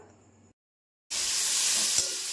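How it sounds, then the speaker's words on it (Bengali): Bitter gourd and pumpkin frying in a pan, a loud hissing sizzle that starts abruptly after a short silence and continues steadily, with one faint clack of a utensil; no talking. "আজকে হবে হচ্ছে উচ্ছে কুমড়ো ভাজা আর গাঠির ঝোল।"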